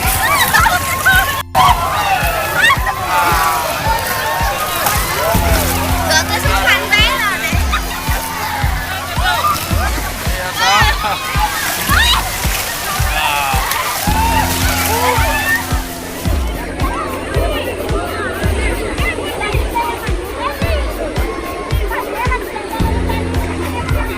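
Wave pool water at a Guwahati water park sloshes and splashes continuously under crowd babble and nearby talk, with a repeating siren tone sounding as the waves start.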